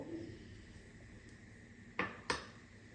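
Two eggs go into a bowl of oats, heard as two sharp knocks close together against the bowl, near and fairly loud, over a quiet kitchen background with no talking.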